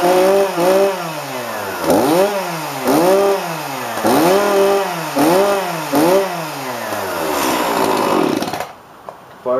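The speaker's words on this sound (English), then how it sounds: "Fires up every time, which it should, considering it's a brand new saw." A brand new chainsaw is pull-started and fires up close by. It gives a series of rhythmic revving bursts, then settles into a steady loud running whine before cutting off near the end.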